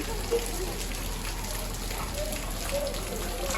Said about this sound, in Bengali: ভালোই বৃষ্টি হইতেছে